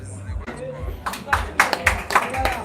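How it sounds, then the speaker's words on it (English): Fans at a pool match cheer and clap after a winning shot, with several sharp claps standing out near and moderately loud, mixed with background speech from the crowd. "And his fans cheer his first win of the match."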